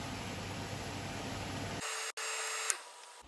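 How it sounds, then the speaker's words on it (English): A kitchen ventilation fan runs with a steady, loud broadband whoosh during home cooking of Ghanaian tomato gravy. The low rumble then cuts out abruptly, leaving a thinner high hiss with one faint click. "I have to turn on my ventilation. So sorry for the noise."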